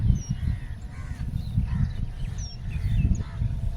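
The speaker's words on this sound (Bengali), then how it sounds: "পাখির ডাক শুনতে পাচ্ছি" Crows caw outdoors in a village, with faint, scattered short calls at a distance over a steady low rumble of wind or traffic.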